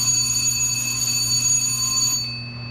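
A steady electronic alarm tone rings continuously at a Titan II nuclear missile silo, holding a constant pitch before cutting off near the end, leaving a low hum behind.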